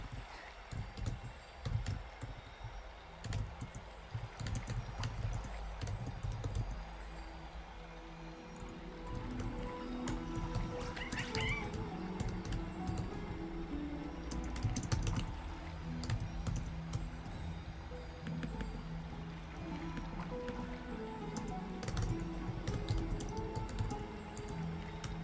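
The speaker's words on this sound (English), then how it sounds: "Guys, hear me type." Soft, quick clicking of computer keys in irregular bursts, faint and close, under low background game audio.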